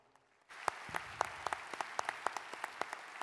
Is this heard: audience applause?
yes